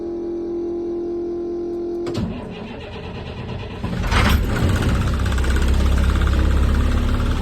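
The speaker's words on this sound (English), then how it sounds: "She fires up, and she's definitely a little on the louder side." A skoolie school bus engine cranks over after a steady hum, catches, and settles into a loud, rough idle that grows heavier and rumbles close by with the motor right beside the listener.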